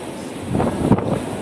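Strong gusting typhoon wind from Typhoon Rolly roars and buffets the microphone, swelling loudest in the middle of the stretch with no talk over it.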